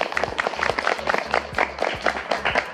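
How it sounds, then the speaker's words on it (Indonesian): A school class applauding a classmate during a long jump lesson, with brief rhythmic clapping close by, loud and unison. "Kasih tepuk tangan."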